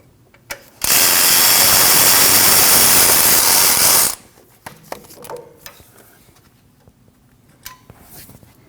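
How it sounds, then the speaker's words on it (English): A power tool whirs loudly for about three seconds while removing a 12mm alternator bolt on a Nissan NV2500 5.6L V8, followed by faint clicks and handling noises. "On the front part of your alternator, you're going to have a 12mm bolt down here on the right. You need to remove that."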